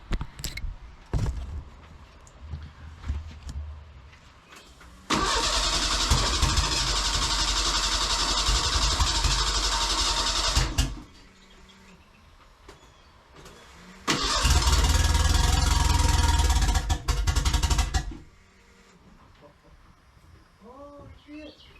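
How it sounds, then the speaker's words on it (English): The swapped engine of a Merkur XR4Ti cranks in two long loud attempts, the second catching and firing up, with quiet gaps and faint birdsong between them. "Guess I'm gonna try and crank it, see if it fires off or what."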